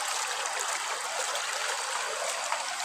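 Water runs steadily as bamboo shoots are washed, a dense close rush like a stream that goes on without a break and without talk.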